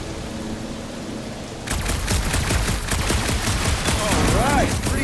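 Rapid bursts of gunfire aimed at a reactor in the Marvel's Guardians of the Galaxy video game, starting abruptly after a quiet hum and crackling densely for several seconds, with a brief rising electronic whine near the end.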